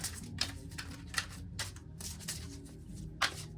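Tarot cards shuffle in quick, papery riffles and bursts, close and fairly quiet, repeated several times with short pauses between.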